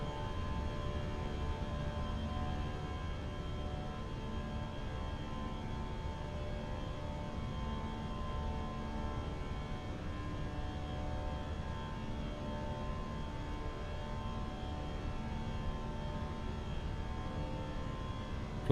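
A continuous, steady aircraft engine drone from a flight simulator plane accelerating, a dense even roar held throughout with no talking.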